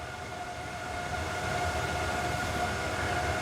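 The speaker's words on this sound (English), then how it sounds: "you can definitely hear the fan sounds to that" Fan running behind a sound dampening blanket, giving a steady muffled whir with a faint tonal hum, continuous and unchanging throughout.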